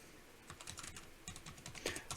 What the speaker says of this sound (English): I do hear a little bit of a rattle coming from the keyboard.